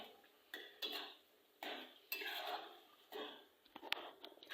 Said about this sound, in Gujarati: સરસ રીતે આપણે મસાલામાં મિક્સ કરી નાખીએ